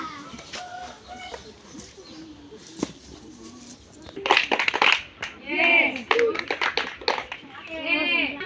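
Children clap together in a rhythmic chant at a church children's gathering, sharp bursts of claps in short patterned groups mixed with voices calling out the words.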